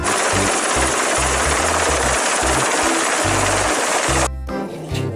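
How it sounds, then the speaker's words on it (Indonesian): An aircraft flying overhead gives a loud, steady roar with a low throbbing pulse, then cuts off abruptly near the end. "Wah, itu kan ada pesawat."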